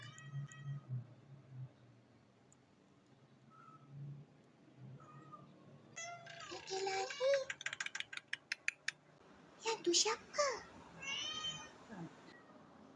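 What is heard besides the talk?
cat meowing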